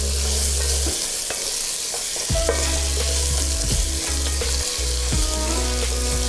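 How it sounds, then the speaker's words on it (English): Carrots and celery sizzle and fry in butter and garlic while a spoon stirs and scrapes the pan, giving loud, close frying with repeated clinks and knocks and no talking. "Then we're gonna put in the carrots, and the celery. We're gonna mix it up nice and good. Get everything all coated in the butter and the garlic."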